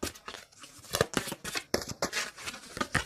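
Tarot cards shuffled by hand in quick, papery riffles and flicks, close and crisp, repeating in short bursts with no talk.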